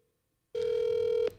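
Outgoing telephone call being placed: a single steady ringback tone sounds loud and close for most of a second after brief silence.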